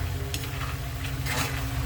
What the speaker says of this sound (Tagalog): halo-haloin natin para pantay yung nakaluto